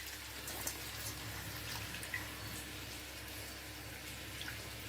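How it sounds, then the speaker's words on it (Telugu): Half a glass of water pours into a country chicken curry cooking in a pressure cooker, a steady soft splashing wash of liquid running throughout, fairly quiet and alone. "1/2 గ్లాస్ వాటర్ పోద్దామండి"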